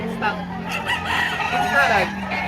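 A rooster crows once, close and loud, amid a busy chicken market in Lipa, Batangas, with other fowl and low background noise around it.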